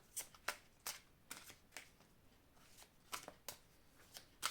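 A deck of angel love oracle cards is shuffled by hand, quiet crisp riffles and snaps in irregular bursts, close and soft with no talk.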